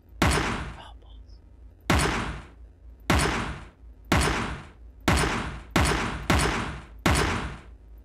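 Heavy rifle shots fire in the video game Teleglitch: seven loud, booming blasts, each with a sharp attack and a decaying rumble, spaced roughly a second apart.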